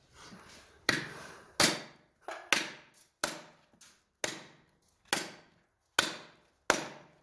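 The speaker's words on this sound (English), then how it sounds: "I've never seen a good knife get ruined faster than chopping through cow bones" Heavy chopping blows from a camp knife strike cow bones at a steady pace, about ten sharp thuds close up, each with a brief ring.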